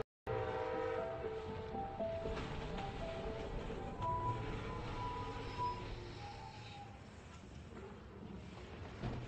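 A train passing between two stations in China, a continuous rumbling roll with faint tonal squeals and hums, fairly steady and moderately close, no voices.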